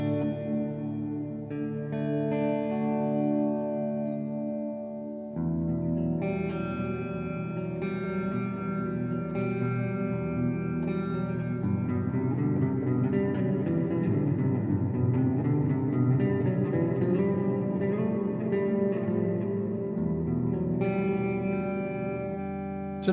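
A Range 120 guitar amplifier app on iOS plays sustained electric guitar chords drenched in a big, spacious reverb, the notes ringing out and overlapping in long washing tails, alone without talk.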